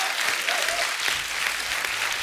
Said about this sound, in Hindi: इसके लिए तालियां बनती पहले तो।